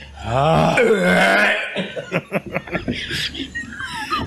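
A person imitates a burp with a long, drawn-out, croaking belch sound up close. Choppy snickering and laughter from a few people follow.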